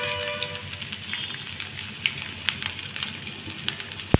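Onions frying in a pan for dondakaya chutney, a dense close sizzle with crackling pops scattered over four seconds and a sharp knock at the end.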